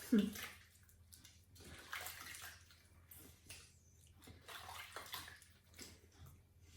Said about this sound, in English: And then when you're ready, you would just wash that off.